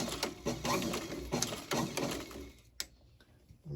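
A sewing machine stitches a leather boot with a quick, fairly soft mechanical chatter in short bursts. It stops near the end and leaves quiet room tone, with no talk.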